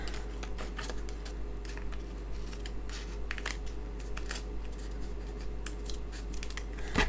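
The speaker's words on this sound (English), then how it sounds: "I'm just going to trim off these" Scissors snip thin gold-edged strips off a paper card, giving a series of quiet, sharp irregular cuts close to the mic over a low steady background hum, with no speech.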